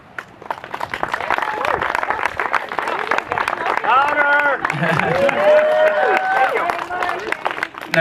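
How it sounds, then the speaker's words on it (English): Wedding guests in Maui applauding, building from a few claps into loud continuous clapping with cheers and whoops, and voices chattering underneath. "a round of applause is in order for Misty, Mark, and Louise"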